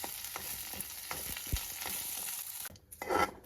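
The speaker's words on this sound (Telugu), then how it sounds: "ఇప్పుడు ఇదే బాండిలోకి కొద్దిగా నూనె వేసుకొని కరివేపాకు వేసుకుందాం" Curry leaves frying in a little oil in a pan while a spice powder is made: a steady, close hiss of sizzling with light stirring scrapes and taps, rising briefly near the end, with no talk.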